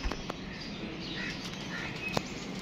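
Wings of a pigeon flutter and flap in brief rustling bursts against a steady background hiss, with faint chirps nearby and no talking.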